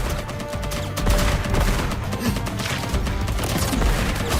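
Spread gun in Contra Operation Galuga firing rapid overlapping volleys, a dense crackling barrage of shots that runs for the whole stretch amid game effects.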